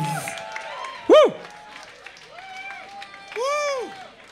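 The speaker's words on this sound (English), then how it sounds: "Big round of applause." At a party talk event, a crowd welcomes a speaker to the stage with loud rising and falling whoops and cheers over a thin patter of scattered clapping.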